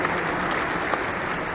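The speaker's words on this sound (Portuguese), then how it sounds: "Salva de palmas à Orquestra Sinfônica Municipal de São Paulo." Brief steady applause from a church congregation at a memorial Mass, honoring the São Paulo Municipal Symphony Orchestra, a dense even wash of clapping throughout.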